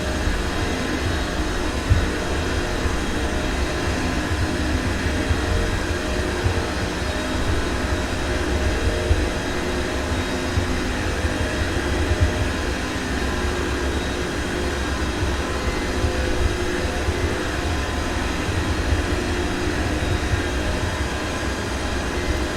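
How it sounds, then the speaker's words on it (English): Jet engines of an MD-11 airliner climbing in a flight simulator game, heard from outside as a steady, loud broadband roar and hiss that stays constant throughout with no voices. "It's beautiful to see that MD-11 in action."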